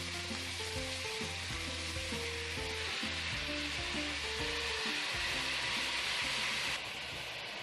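Beef sizzles and fries in a pan with onion and green pepper, a loud, continuous crackling hiss close by, with occasional stirring scrapes and a slight drop in intensity near the end.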